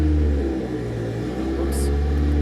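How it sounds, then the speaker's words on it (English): A car engine revving in first gear in a garage, a loud, steady, close rumble that dips briefly and then holds with a continuous droning hum. "I will go through all the gears. First gear."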